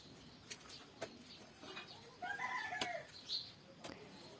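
Chickens make a few soft, scattered clucks and brief squawks with some wing flutter at a rural mud house, fairly faint against a quiet outdoor background, with no talking.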